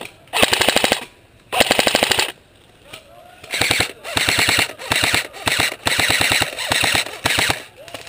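Real gunfire aimed at a window during the siege of Sarajevo: loud, close bursts of rapid automatic fire come in several clusters of varying length, with short pauses between them and faint voices in the gaps.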